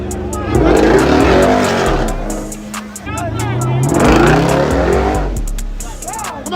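Cars accelerating hard at a nighttime hood street race track, a loud rising engine roar that swells twice with tire squeal, mixed with shouting voices nearby.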